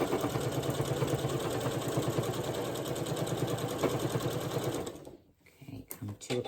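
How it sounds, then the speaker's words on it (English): A sewing machine stitching a potholder runs steadily with a fast, even mechanical chatter for about five seconds, then stops abruptly, followed by a few brief handling sounds. Someone speaks quietly over it. "back stitch, front stitch, and turn at your corner."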